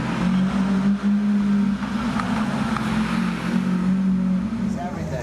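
Lamborghini supercars on a road trip celebrating the marque's 50th anniversary, their engines droning steadily and loudly throughout with a constant low hum and wind-like wash.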